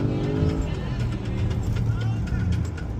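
A 2014 Porsche Cayenne S (958) being driven, heard from the cabin as a steady, loud low rumble of engine and road noise throughout, with faint tonal sounds above it.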